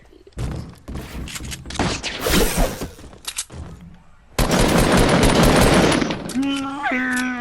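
Rapid gunfire bursts and single shots from a first-person shooter video game, loud and dense, with people talking over much of it and a rising synthetic game tone near the end.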